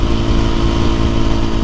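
A rebuilt Suzuki RM-Z450 supermoto engine with a fresh top end revs loud and close in one continuous, throaty burst, with no voices.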